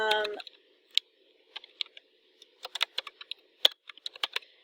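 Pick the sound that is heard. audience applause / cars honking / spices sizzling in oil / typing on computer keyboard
typing on computer keyboard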